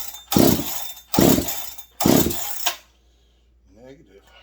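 A Husqvarna 385XP chainsaw with a ported engine is pull-started with no choke and a fast idle set. Three short, loud cranking bursts come in steady succession, then a faint rattle as the attempts stop.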